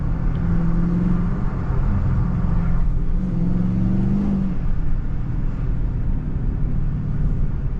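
Steady engine drone from a Dodge Charger Scat Pack 392 driven in manual mode, low rumbling with a faint tonal whine riding on top throughout, no voices.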